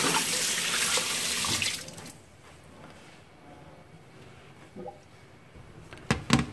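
Tap water gushes loudly to rinse fish for turmeric-braised fish, a steady rush for about two seconds before cutting to quieter kitchen handling with faint splashes and clinks, then a brief louder burst near the end.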